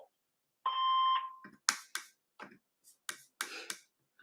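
A single clear electronic voicemail beep, a steady tone of about half a second, followed by scattered clicks and faint rustling in a quiet phone line.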